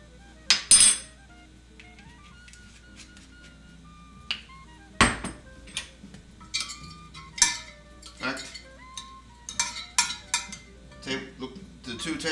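Olive oil swished around in a roasting dish for roast potatoes, with scattered clinks and scrapes of metal and glass against a near-silent kitchen background.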